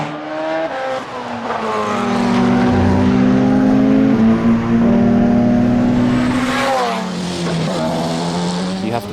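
Porsche 919 race car at full boost, its engine a loud, sustained high-pitched roar with rising and falling pitch across the whole stretch, close and dominant, with no one talking over it.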